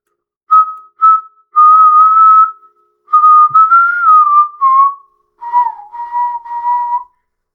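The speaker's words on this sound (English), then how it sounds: "maybe you can hear me whistle" A person whistles a short tune alone, a series of clear, loud notes in several phrases with brief pauses between them.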